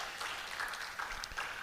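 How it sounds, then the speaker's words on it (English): Conference audience applauding, a modest spread of clapping heard from a distance with a few sharper claps standing out near the end. "keep clapping for her"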